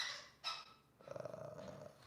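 A dog growls softly during play, with a short sharp bark-like burst followed by a rattling growl, faint and alone.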